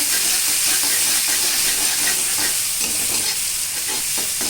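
Steady sizzling and stirring of spices with ginger garlic paste frying in a pan, a close, continuous hiss with soft scraping strokes and no talking.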